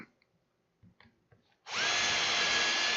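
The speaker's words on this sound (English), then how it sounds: "So what we do is put the drill in, and we're going to drill a hole center of that piece underneath here," A power drill bores a 2.5 mm hole straight down through the centre of a small piece: a few quiet handling clicks, then the motor spins up into a loud, steady high whine up close.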